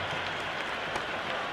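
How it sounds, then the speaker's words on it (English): Stadium crowd in the cricket video game Cricket 26 applauding and cheering, a steady dense wash of clapping and roar with no gaps, moderately loud and close throughout the short stretch. "It's evident and ever so audible that the crowd is at near bursting point at today's play."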